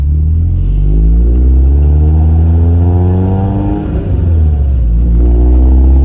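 A car engine close by, loud and steady, rising in pitch as it pulls away on a summer's day, briefly dipping and then revving up again through the gears, with no talk.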